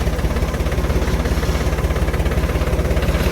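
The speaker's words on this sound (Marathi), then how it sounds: "पावसानं आंबे झाल्यामुळे ट्रॅक्टर घसरा घसरी करायला लागले." Tractor engine on a muddy, rain-soaked maize field, running loud and close with a steady rhythmic low throb. No talking.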